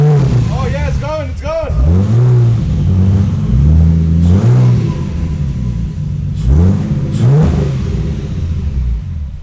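Ford Falcon EF fitted with a Barra engine, revved hard several times in a row, the deep engine note rising and falling in repeated loud sweeps with a heavy rumble close by.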